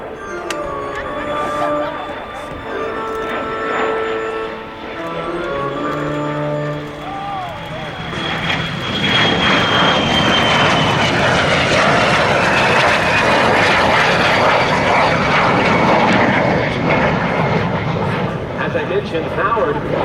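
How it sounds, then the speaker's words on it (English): A de Havilland DH-115 Vampire jet with a de Havilland Goblin turbojet roars past loud and close at a flight display, its engine whine building into a sustained rushing blast that fills the second half; a voice talks early on. "Powered by the de Havilland Goblin turbojet engine"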